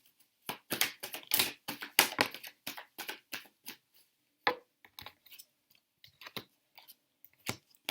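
Tarot cards are shuffled close up in quick bursts of crisp, papery riffling and slapping, dense at first and then in sparser separate flicks.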